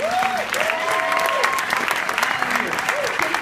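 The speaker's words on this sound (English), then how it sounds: "another round of applause for these" Audience applause at a documentary world premiere Q&A, a continuous dense clapping from a theatre crowd with voices audible underneath.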